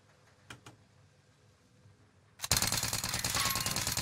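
Milano submachine gun with a 55-round magazine firing in Call of Duty Warzone, a sustained loud burst of rapid automatic fire that follows a couple of faint clicks and runs to the end.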